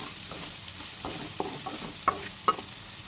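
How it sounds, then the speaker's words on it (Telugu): Okra frying in a pan with a little salt sizzles steadily, while a utensil stirs and scrapes in a series of short, fairly loud clinks and knocks. "కొంచెం సాల్ట్ వేసుకొని ఫ్రై చేసుకోండి."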